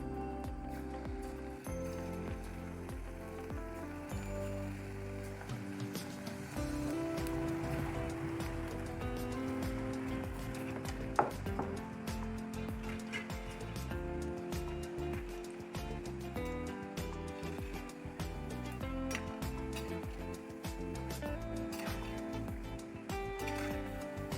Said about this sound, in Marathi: आता आपण भज्या तळून घेऊ.